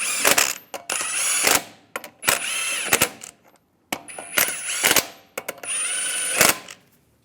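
Lug nuts being spun onto the wheel of a 2007-2013 Chevy Silverado with a power tool: four loud, close whirring bursts separated by short pauses, with no talk.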